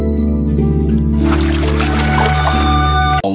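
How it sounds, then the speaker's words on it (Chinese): AI-generated foley for feet lightly stepping on water as birds scatter: a continuous layered wash of watery splashing and fluttering, with a steady musical drone underneath, fairly loud throughout and ending abruptly. "可以明显的感觉到水声、 鸟叫声、翅膀发出的声音"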